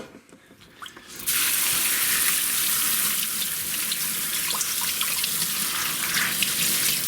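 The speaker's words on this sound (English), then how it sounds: "And then we're going to put it into the strainer and just wash these out." Soybeans being rinsed in a strainer under a running tap for homemade tempeh: a quiet moment, then the water abruptly turns on and pours in a steady, close hiss and splash that continues to the end.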